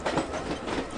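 Local passenger train running, a loud continuous rumble with rattling wheel clatter filling the whole moment.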